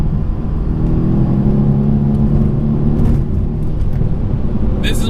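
A tuned 674-horsepower Mercedes-AMG C63 S drones under full throttle from inside the cabin, a loud, steady low rumble with a faint whir above it and no break.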